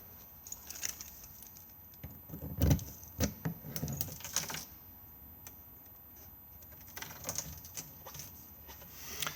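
Ignition keys jangle at the diesel filler cap of an Auto-Sleeper Nuevo motorhome in a few quiet, close bursts of light metallic clinks and taps separated by near silence.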